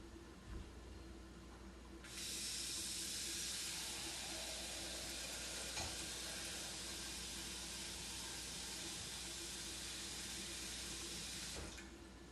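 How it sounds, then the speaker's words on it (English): Tap water runs steadily into a pot being filled for cooking ramen noodles, a continuous close splashing rush that starts abruptly, holds for about ten seconds and then cuts off. "So get this pot filled with water"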